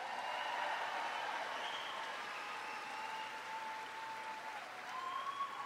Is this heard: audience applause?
yes